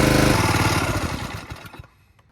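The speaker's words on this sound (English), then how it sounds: "Well, it runs, but not without the choke." An old wood splitter engine that had sat for years runs roughly on choke with a loud, close, chugging mower-like putter, then sputters, fades and dies toward the end.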